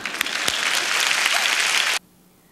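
A short burst of dense audience applause at a television awards ceremony, steady and full, then cut off abruptly into near silence.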